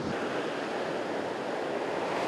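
Sea surf washing steadily onto a beach in Odessa in early spring, a continuous broadband roar of breaking waves with some wind, close and fairly loud, no voices.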